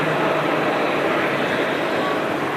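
Aircraft on approach to Manchester Airport, heard as a steady, loud broadband roar that continues without a break across the whole stretch.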